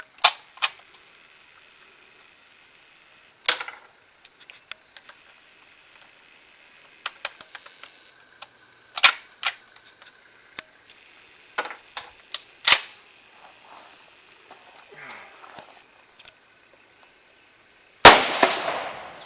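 Sharp clicks and clacks of handling a Hakim rifle lead to a single loud, sudden shot at the end, the rifle firing Romanian 150 grain light ball ammunition.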